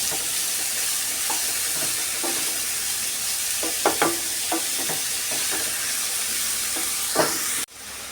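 Curry leaves fry in a little oil in a pan, making a steady close sizzle broken by several sharp scrapes and clicks of stirring, and a sudden drop near the end.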